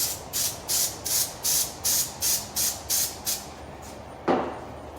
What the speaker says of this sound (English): So then you spray the centerpiece.